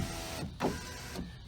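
Car power window glass sliding down and then up in a freshly sprayed, greased track, a steady whirring rub that runs continuously at close range with slight swells as the pane changes direction.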